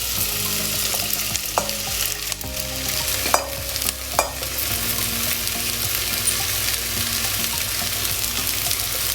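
Potato and leek for garlic soup cook in a pan with a steady low sizzle, broken by a few sharp utensil clinks and scrapes against the pan.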